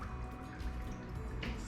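Water pours steadily into a jar of cherry tomatoes packed for fermenting, a continuous close gurgling and trickling with no voice over it.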